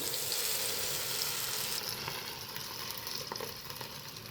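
Urad dal vadas (ulunthu vadai) frying in hot oil, giving a steady, dense sizzle that stays close and fairly loud throughout, with no talking.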